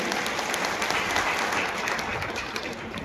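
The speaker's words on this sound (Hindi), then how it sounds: "जोरदार ताली बजाओ सभी के लिए" A large crowd at an outdoor political rally with a chief minister applauds, dense sustained clapping heard from a distance that holds steady and fades slightly toward the end.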